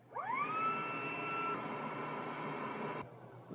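A Hyper Tough 20V brushless cordless shop vac fitted with a crevice tool runs at close range, its motor spinning up into a steady loud whine and holding for about three seconds before cutting off.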